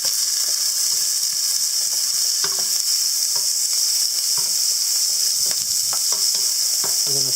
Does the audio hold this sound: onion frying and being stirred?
yes